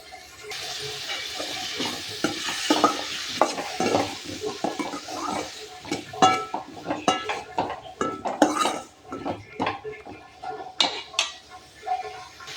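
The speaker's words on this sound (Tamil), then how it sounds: "அடுப்பில் வச்சாச்சு, கொஞ்சமாக எண்ணெய் சேர்த்துருக்கேன், நல்லா சூப்பராக வதக்கிக்கலாம்." Onions and tomatoes sautéing in a little oil for vendakkai puli kulambu, a metal spoon scraping and clinking against the pan in an irregular stirring rhythm over a soft sizzle, close and fairly quiet.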